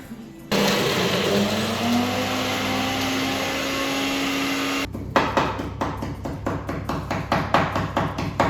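A blender purees chili peppers soaked in oil for a homemade chili oil, giving a steady loud motor whir for several seconds that then breaks into rapid pulsing bursts.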